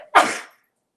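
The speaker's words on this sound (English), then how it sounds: "oh, I got a sneeze coming." One short, sharp sneeze, close and loud, bursting out suddenly and fading within half a second into silence during an indoor crafting session.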